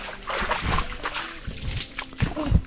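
Feet stepping through shallow stream water to wash off mud, with splashes and sloshing at close range, the heaviest near the end, beside a banana plantation after a typhoon.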